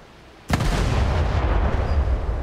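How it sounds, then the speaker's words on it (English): A gun turret on the HMCS Haida fires a shell in the War Thunder naval video game: one sudden, loud boom, followed by a long rumbling roar that fills the rest of the clip, close and without speech. "Now I can train the gun turrets here. We can fire at that little S-38."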